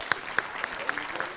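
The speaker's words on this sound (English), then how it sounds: "Can we clap for these people, an Obama clap?" An audience at a county executive committee induction session gives a slow, evenly spaced group clap, about four sharp claps per second in unison, loud and close, over a low murmur.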